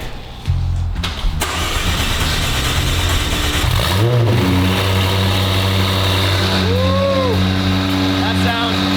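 A car engine at an abandoned headquarters cranks, catches and fires up loudly, then settles into a steady throaty idle with a couple of brief revs, people talking faintly beneath the engine.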